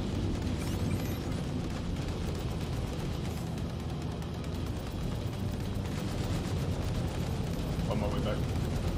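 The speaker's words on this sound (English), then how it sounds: "Nice hits with the missiles." Missiles slam into a ship during a space dogfight in Star Citizen, a steady, dense roar of blasts and rumbling impacts with no clear gaps, loud throughout.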